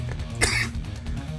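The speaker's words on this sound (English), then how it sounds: "I hate the cough." A single cough bursts out near the middle of a brief stretch over steady low background hum, loud and close, with no talk around it.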